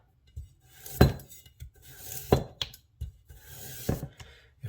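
A knife cuts a carrot into strips on a board, making a few distinct sharp chops spaced about a second apart with softer scraping and clinking between them, close and clear with no talk.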